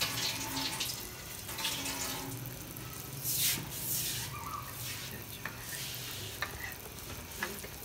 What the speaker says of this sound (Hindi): आहिस्ता आहिस्ता डालूंगी मैं इसको और साथ साथ में चम्मच हिलाती जाऊंगी ताकि इसकी गुटलियां ना बने